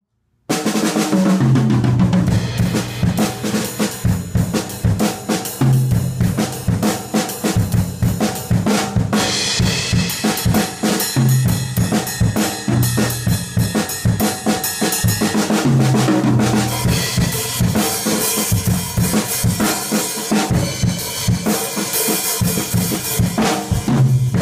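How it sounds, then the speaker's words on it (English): Tuned drums of several sizes played at different pitches, with the larger drums sounding lower, in a loud continuous rhythmic pattern. Deep repeated low hits run under busy brighter strikes with no pauses. "If the drums are arranged and tuned correctly, they may sound something like this."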